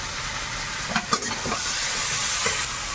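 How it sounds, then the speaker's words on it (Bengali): Sundarbans crab fries and is stirred in a pan with tomato and green chilli. A soft, steady sizzle runs under a few brief scraping stir strokes near the middle. "এখন নেড়ে চেড়ে ভালো করে ভেজে নিলাম"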